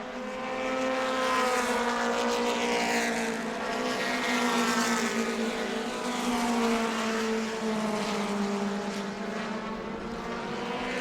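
Modified mini race cars roar around the New Smyrna Speedway oval, a loud, continuous engine drone with pitch sweeping up and down as the pack passes, no voices over it.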